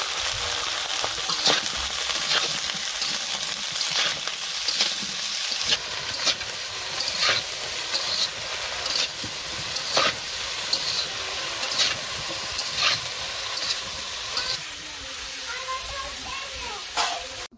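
Cauliflower sizzles and hisses steadily in hot oil in a kadai, with frequent scraping and clanking of a stirring spoon against the pan, close and continuous throughout.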